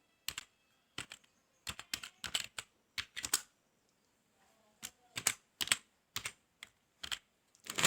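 Computer keyboard typing while writing a C language condition with logical operators, heard as close, crisp bursts of rapid keystrokes separated by short pauses, with a quiet gap midway and no talking.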